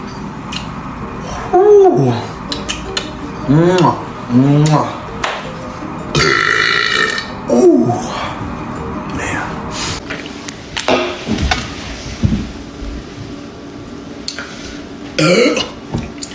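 A man lets out a series of loud, deep burps, about half a dozen spaced through the stretch, with people talking and laughing around them.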